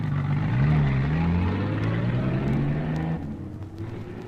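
A car engine hums steadily, its pitch rising and falling slightly as it drives off, then drops lower as it moves on, a continuous motor drone with no voices.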